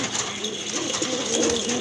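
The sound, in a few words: grizzle pigeons cooing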